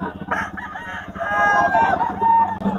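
A game cock crows loudly and close at a busy Bocaue gamefowl market, one drawn-out call rising and holding over a background of other clucking birds and faint voices.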